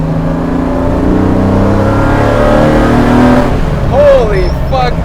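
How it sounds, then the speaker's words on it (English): A BMW E30 fitted with an S52 engine revs hard to high RPM, a loud sustained engine roar that climbs and holds, heard from inside the car with people talking and exclaiming over it. "High RPM. That's when the car wakes up."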